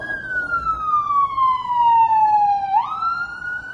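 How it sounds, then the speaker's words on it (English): An ambulance siren wails in one long, loud descending sweep that jumps back up as the vehicle passes nearby outdoors, with no talking. "We got an ambulance."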